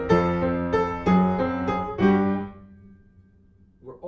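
Piano playing an ending lick with triplets and octaves in the left hand. Several loud, full chords ring out in steady succession, then fade into a quiet decay, with a soft new note at the very end.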